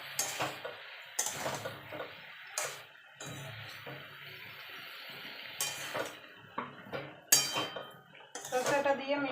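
A spoon clinks and scrapes against a pan in irregular bursts as drumstick stems and vegetables are stirred with mustard paste, with a faint sizzle underneath and a voice talking at times.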